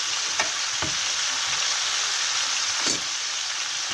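Chicken pieces brown in a hot pan for an olive tajine, giving a continuous close sizzle with a few soft scraping stirs breaking through now and then.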